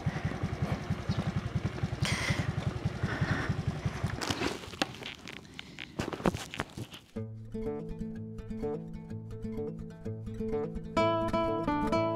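Motorcycle engines rumble and pulse on a raised pathway built for motorbikes in Barangay Taliptip, Bulacan, for the first few seconds, then fade behind clattering noise and music that take over.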